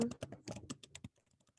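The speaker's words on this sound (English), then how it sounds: "So here, I would be typing my answer for my teacher to review." An answer is typed on a computer keyboard, a quick run of close, crisp key clicks that tapers to fainter taps at the end, with no voice.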